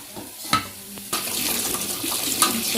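A kitchen tap runs while something is being washed, giving a steady close splash with a few soft knocks and clatters of handling.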